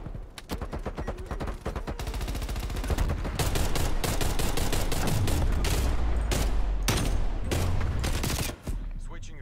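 Rapid SKS rifle shots ring out in Call of Duty Black Ops Cold War, a dense run of loud sharp cracks in quick bursts that fills most of the stretch, with a brief gap near the end.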